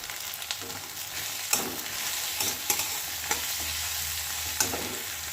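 Crushed garlic goes into onions frying in a pan and is stirred, producing a steady close sizzle with scraping and occasional sharp spoon knocks against the pan.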